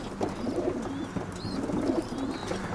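Pigeons coo softly in a loft during transport to Poland, several low, murmuring calls overlapping at moderate distance with faint bird chirps in the background.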